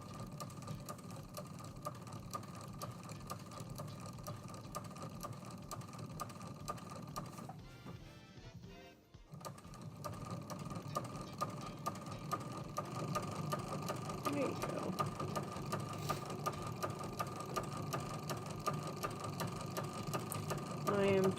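A sewing machine stitching a T-shirt table runner runs in a steady, fast mechanical chatter, pausing briefly partway through before resuming slightly louder, close and continuous.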